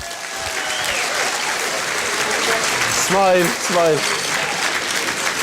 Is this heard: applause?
yes